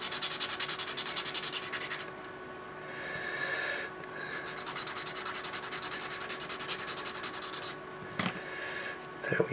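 Wood being sanded by hand on a Drakkar ship model: steady, close, scratchy rubbing strokes that run continuously, with brief lighter pauses around the second and fourth seconds.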